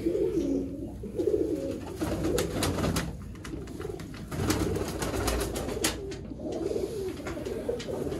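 Sialkoti breeder pigeons coo in low, rolling bursts close by, repeated throaty calls coming in waves over a background of scattered clicks and handling noises.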